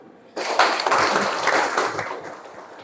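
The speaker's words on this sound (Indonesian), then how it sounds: "tepuk tangan dulu" Students in a classroom break into applause after a group presentation, the clapping starting abruptly from quiet, holding steady, then gradually tapering off.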